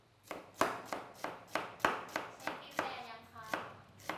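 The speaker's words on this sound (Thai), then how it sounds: "หั่นหอมก่อนเลย" Steady knife chopping of shallots on a cutting board, about ten sharp close knocks in an even rhythm.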